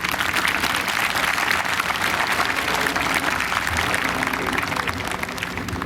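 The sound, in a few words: audience applause for teachers at a graduation ceremony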